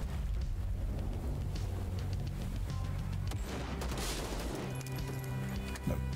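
Sniper gunfire in the first-person shooter VLADiK BRUTAL, with repeated sharp shots cracking through a constant loud wash of battle noise and rumbling blasts, close and heavy throughout.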